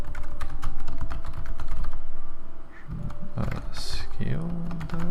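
Close typing on a computer keyboard comes as quick, irregular clusters of key clicks, with brief pauses and a voice speaking over part of the stretch.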